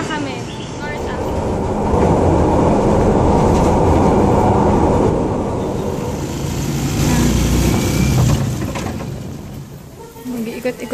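MRT train in Manila rumbling along the rails, a loud sustained roar that swells and eases with faint clatter, heard from inside or close by, with no talk.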